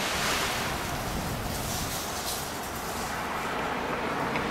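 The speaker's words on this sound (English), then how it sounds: "is it a windy day out or what?" Strong, steady wind roars and buffets a GoPro microphone on bicycle handlebars throughout, a broad rushing noise with no talking.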